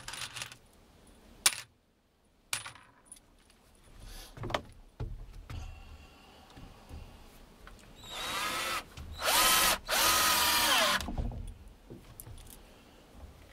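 A power drill drives screws into a wooden DIY shooting stand, with loud sustained whirring bursts around the middle of the clip and intermittent clicks and tool handling before them.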